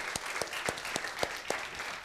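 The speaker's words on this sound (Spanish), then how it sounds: "Dale ese aplauso al Señor." Congregation applause during a Spanish-language church service, a soft, distant rush of clapping with a few sharper, evenly spaced claps standing out, heard briefly without talk.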